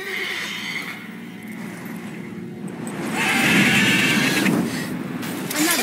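A horse whinnies loudly in The Witcher 3: Wild Hunt over a steady background rumble, the neigh rising and swelling midway before trailing off.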